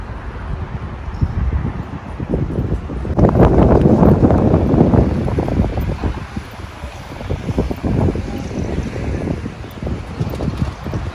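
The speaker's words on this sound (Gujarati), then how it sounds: "પાણીનો ઉછાળ એટલો છે ને પવનને લીધે છે." Gusty wind buffets the microphone while choppy water splashes and slaps nearby at a port in Germany with many boats, surging louder in the middle before easing.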